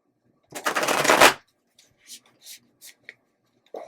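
A deck of black tarot cards is shuffled in one quick riffling burst. A few soft, brief card taps and handling sounds follow in an otherwise quiet room.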